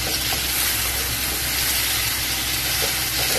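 Tomato masala for hotel-style channa masala sizzles steadily in a pan, a loud continuous broadband frying hiss that runs unbroken with no speech over it.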